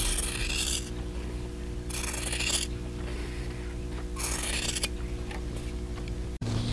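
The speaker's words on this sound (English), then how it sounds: "now I'm going to cut this right down the drawn line" Quilt fabric being cut by hand along a drawn line for half-square triangles, a series of soft scissor rasps in bursts over a low steady hum, close and fairly quiet with no talk.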